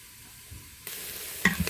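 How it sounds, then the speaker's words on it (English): Yellow onion hits melted butter in a pan and starts a soft hiss, followed by a brief scrape of stirring, close and fairly quiet. "now that all the butter is melted, we're going to add in our yellow onion"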